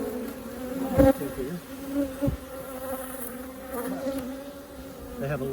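Honey bees hum in a steady, close drone during a hive inspection, with a few louder buzzes passing near and a brief spoken phrase over them.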